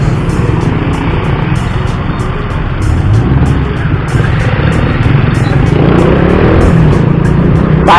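Busy road traffic in a Philippine street, cars and motorcycles including a Rusi motorcycle, gives a loud, steady engine rumble and wash of passing vehicles, continuous and close, with no talking.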